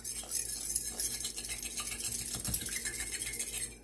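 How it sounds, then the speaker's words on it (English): A whisk beats eggs with spices and vanilla in a bowl for sweet potato pie, a steady close scraping and clinking rhythm that runs continuously, with no talking. "First thing I'm going to do is whisk up the eggs with the spices and the vanilla."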